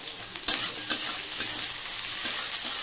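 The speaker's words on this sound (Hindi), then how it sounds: "हम डायरेक्ट इसमें प्याज ही डाल दे रहे हैं" Sliced onions fry in a pan for a drumstick (sahjan) curry, a steady close sizzle with a couple of sharp clinks of a spoon against the pan early on.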